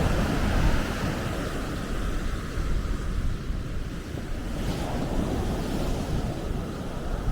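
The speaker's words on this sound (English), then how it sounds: "the sea's quite impressive today. It's making a good noise." Surf rolls onto a beach in Aberdeen as a continuous loud roar of breaking waves, mixed with wind buffeting the microphone, with no voices.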